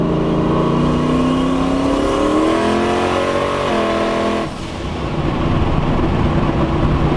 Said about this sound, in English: So if I slow down a little bit, put it in second gear, it drops all RPM.